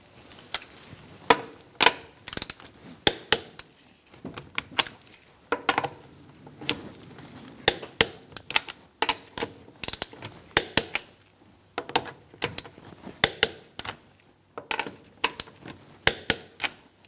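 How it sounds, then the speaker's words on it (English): A torque wrench tightening the wheel lug nuts on a 2004-2009 Mazda 3 to 85 foot-pounds in a star pattern, giving repeated close ratcheting clicks in short bursts, with brief pauses and metallic knocks between nuts. "We're going to torque our wheel to 85 foot-pounds in a star-like pattern."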